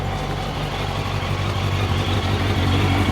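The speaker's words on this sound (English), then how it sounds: "But engine sounds wicked. It sounds super smooth." A Suzuki GSX-R1000 motorcycle engine idles steadily and smoothly after a full service, a close, constant low rumble with no other sounds.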